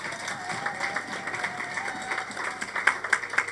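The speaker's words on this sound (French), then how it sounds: "Applaudissez pour Dieu." A church congregation breaks into applause, a steady wash of clapping and crowd noise with sharper individual claps standing out near the end.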